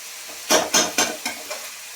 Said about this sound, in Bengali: আর এখানে আমি পেঁয়াজটা ভাজছি